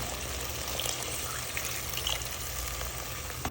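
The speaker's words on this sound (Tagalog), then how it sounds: "Magdagdag ng tubig kung kinakailangan." Water is poured into a cooking pot holding meat for Filipino balbakua, making a steady, close gushing splash that runs throughout.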